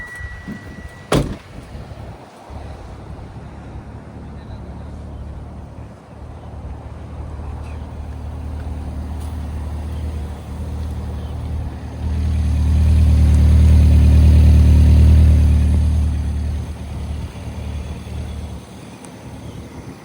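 Supercharged Subaru Sambar kei truck starting up and settling into a steady idle, then briefly revving up and dropping back to a low, even hum; a sharp click sounds near the start.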